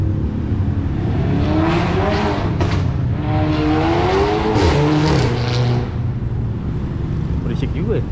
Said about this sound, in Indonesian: Gue juga jujur belum pernah dengar suara mobil gue dari luar.